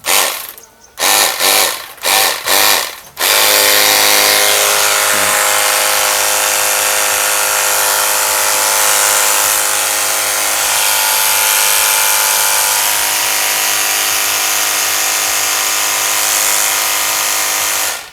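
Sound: OSUKA OCPW606 cordless high-pressure washer spraying water

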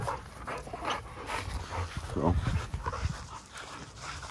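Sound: dogs, XL pitbulls, panting and whimpering

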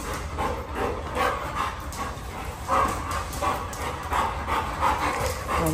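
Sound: dogs barking

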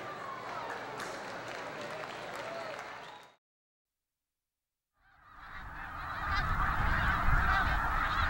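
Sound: snow geese honking as they fly in

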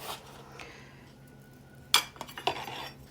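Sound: spooning citric acid into glass jars

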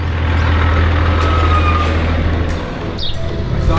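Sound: truck sounds

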